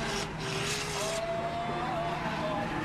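Race car engine roaring loudly as it accelerates on a circuit during a televised motor race, a steady high engine drone with a rising pitch that continues throughout.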